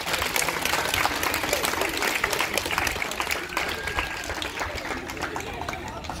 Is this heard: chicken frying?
no